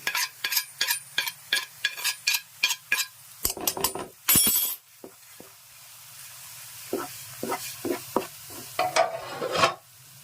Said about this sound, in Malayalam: ഇതൊന്ന് വറുത്തെടുക്കുക ഒന്ന് ചൂടാക്കി ചൂടാക്കിയാൽ പോരാ അതിൻ്റെ കളറൊക്കെ ഒന്ന് മാറി വേണം